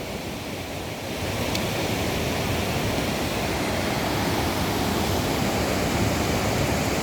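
Water rushing through a rubber dam sluice gate at Banshtala in Sunamganj, a dense, continuous roar that jumps louder after the first second and then holds steady, close and loud with no voices.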